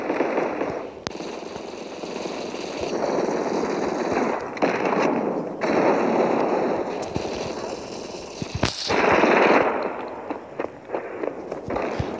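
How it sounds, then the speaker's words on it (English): Explosions and gunfire in the mobile shooter game Modern Combat 5, a dense, continuous barrage of blasts and rumbling with sharp bursts standing out, loud and busy throughout. "These bombs y'all throwing."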